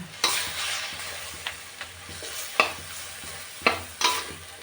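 Pork sizzles in a pan as it is stir-fried for a Thai eggplant dish, with a steady crackle broken by repeated scraping strokes and sharp clacks of the utensil against the pan, close and clear.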